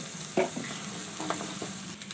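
Ground spices with turmeric powder cook in a pan for an aloo paratha filling, giving a steady low sizzle with a few scraping stirs, the first one sharp and near.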